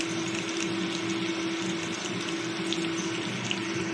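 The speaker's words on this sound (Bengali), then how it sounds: "এরপর এর মধ্যে একটু জল দিচ্ছি।" Water is poured into a pan of frying spices while cooking a Bengali pabda fish curry with cauliflower, making a steady rushing, splashing pour over a constant low hum, close and fairly loud throughout.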